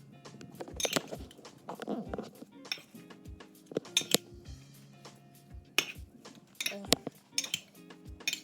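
A spoon stirs potato pancake batter in a bowl, making repeated clinks and scrapes at an irregular rhythm, close and fairly quiet, with a low hum in the background.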